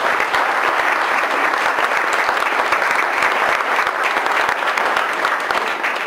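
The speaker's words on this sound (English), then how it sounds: "I'd like to give Jen and Doreen and Maurice again a round of applause" An audience at a civic engagement recognition breakfast applauds steadily, dense clapping filling the room at a loud, even level throughout.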